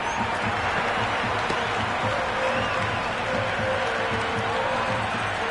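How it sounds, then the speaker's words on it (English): A cricket stadium crowd in the video game Cricket 26 cheering and applauding a boundary, a dense, steady roar of massed voices and clapping heard from a distance. "The crowd love that one."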